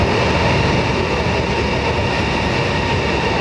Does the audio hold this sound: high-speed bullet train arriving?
yes